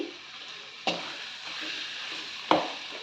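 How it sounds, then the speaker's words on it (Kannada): Mint leaves frying in masala paste in a pan over a medium gas flame, a steady close sizzle broken by two sharp spoon knocks against the pan. "ಪುದೀನ ಸೊಪ್ಪನ್ನ ಮಸಾಲೆ ಪೇಸ್ಟಲ್ಲಿ ಹಸಿ ವಾಸನೆ ಹೋಗೋವರೆಗೂ ಫ್ರೈ ಮಾಡ್ಕೊಂಡಿದ್ದೀನಿ"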